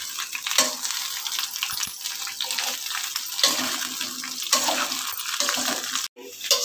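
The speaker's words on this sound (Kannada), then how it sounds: "ಎಣ್ಣೆ ಕಾಯ್ದ್ಮೇಲೆ ಬೆಂಡೆಕಾಯಿ ಇದನ್ನು ಚೆನ್ನಾಗಿ ಫ್ರೈ ಮಾಡ್ಕೊಬೇಕು." Lady's finger (okra) fries in hot oil in a pan on a gas stove, a steady close, watery crackle and hiss with small bubbling pops and stirring shifts throughout, briefly cutting out near the end.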